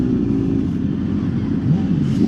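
Several motorbikes on a street rev their engines in a steady, loud, low rumble that fills the whole stretch without clear breaks, with an undercover police vehicle close behind them.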